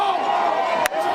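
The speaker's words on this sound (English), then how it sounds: "And the crowd rising to their feet." A football stadium crowd at a college game between Calvin and Oberlin, a broad steady roar of cheering throughout with a single sharp thud near the end, no commentary over it.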